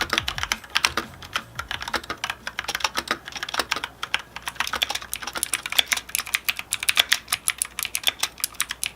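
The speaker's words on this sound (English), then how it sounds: "The typing experience was fluid and responsive" Rapid, steady typing on a wireless keyboard with white backlighting and blue switches, with dense, crisp key clicks continuing throughout at close range and no voices.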